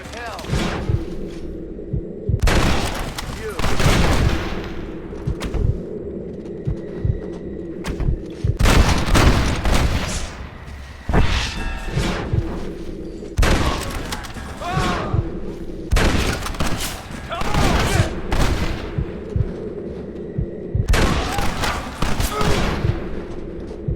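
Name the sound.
gunfire during gate assault in Red Dead Redemption video game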